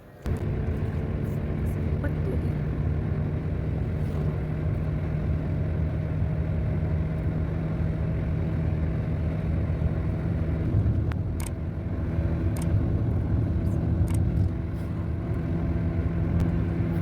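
A family car cruises along the road at 100 km/h, a steady low engine and tyre drone heard from inside the cabin that holds unbroken throughout, with a few faint clicks on top.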